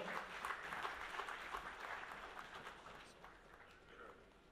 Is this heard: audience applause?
yes